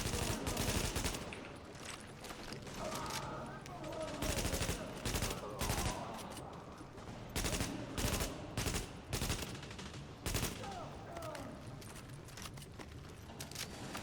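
Automated turret in The Division firing at enemies, rapid bursts of gunfire repeating through the scene with short pauses, loud and close among other game sounds.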